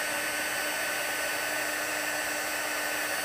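A heat embossing gun blows hot air over embossing powder, a steady loud whirring hiss that continues unbroken and alone throughout.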